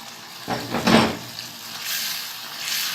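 Raw chicken pieces hit hot masala for a chicken curry with a brief thudding burst, then a soft, steady frying hiss that swells slightly as they cook on the pan.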